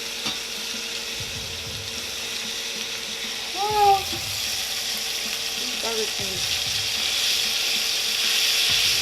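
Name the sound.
burger patties frying in a pan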